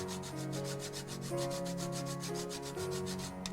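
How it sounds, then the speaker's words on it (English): Whole nutmeg rubbed against a small kitchen grater for mulled wine, a steady rhythmic scraping of quick repeated strokes, close and continuous with no talking. "Just grate some nutmeg into the wine."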